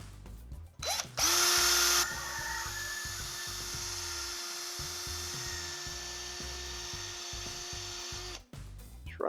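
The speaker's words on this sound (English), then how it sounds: "these hubs are a little tight on the hinge pin, so I drill these out" A power drill with a 9/64 bit bores out tight hubs on a hinge pin for a Tekno EB48 2.1 RC buggy build, a steady high whine running alone for about seven seconds after a short louder burst at the start.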